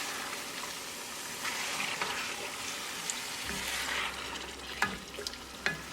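Pork back ribs being stirred into a sizzling yogurt tadka in a pan, with a steady broadband frying hiss and a few soft scrapes and clinks from the stirring near the end, no talking.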